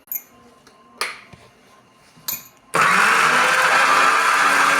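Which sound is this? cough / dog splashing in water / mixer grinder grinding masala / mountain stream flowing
mixer grinder grinding masala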